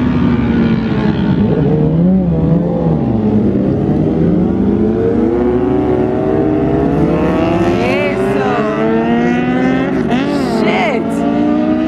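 Cars on a race track roar loudly as engines rise and fall through repeated upshifts and revving passes, the noise continuous and close, with faint voices beneath it.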